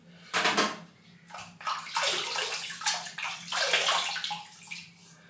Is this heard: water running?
yes